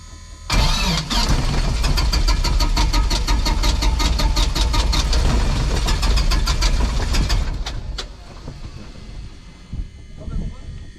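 A light aircraft's piston engine cranks on its starter and catches during a pre-flight start, running loud and steady close by with rapid firing pulses before easing off toward the end, with brief talk in the cockpit.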